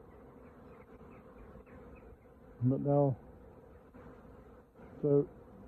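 Honeybees from a small swarm in a poly nuc box buzz steadily in a low, constant drone while someone speaks briefly twice over it.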